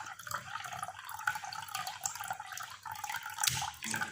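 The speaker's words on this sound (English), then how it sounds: "So I'm going to pour the water now." Water runs steadily from a tap or is poured continuously into a container for an automatic water level switch project, a close, unbroken splashing trickle with a few brighter drips throughout.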